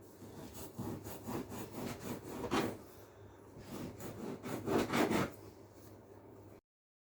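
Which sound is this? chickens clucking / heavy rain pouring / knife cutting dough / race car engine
knife cutting dough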